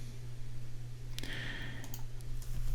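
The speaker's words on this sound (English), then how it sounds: "you just go ahead and click login" A single soft mouse click on a login button during a local WordPress install on Windows, a short tick over steady computer hum, followed by a few faint clicks.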